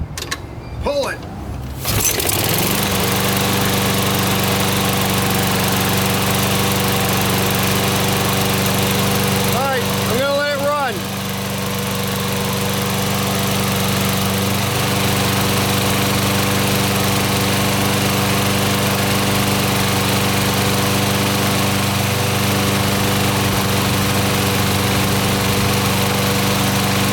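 A Toro SR4 lawn mower with an aluminum deck and automatic choke is pull-started, catches after a couple of seconds, then runs at a steady, loud, close drone with a brief dip near the ten-second mark.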